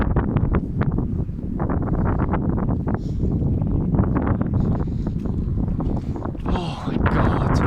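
Very strong wind gusting through an orchard of apple trees near bent fences, heavy roaring buffeting across the microphone that rises and falls in bursts, loud and close the whole time.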